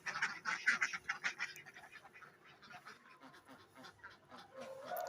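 Egg-laying ducks in a pen bedded with rice husks make soft, scattered quacking and honking calls at moderate distance, with rustling movement throughout.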